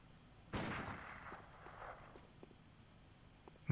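A single gunshot in the Bloodborne PSX demake booms out and decays into a rumbling echo, followed by faint footstep-like taps and a sharp sound at the very end.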